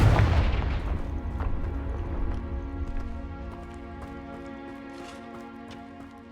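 A Confringo fire spell blasts in the video game Hogwarts Legacy, a loud booming impact that opens the clip and then fades into a long, ringing decay, with no talking over it.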